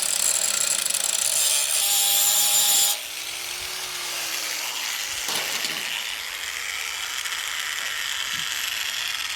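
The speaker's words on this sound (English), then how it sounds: "Now I'm just going to get the grinder and grind these off." An angle grinder grinds off bolts holding the lights on a 1994 tandem axle trailer. A loud, harsh steady grind cuts out abruptly, then the tool whines down as it spins to a stop.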